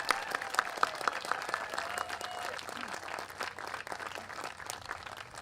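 Rally crowd at a Tea Party event in Glen Allen, Virginia, applauds in a soft, diffuse patter that stays fairly faint and distant throughout, with a few sharper claps early on.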